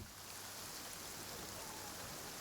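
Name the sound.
rain in Genshin Impact video game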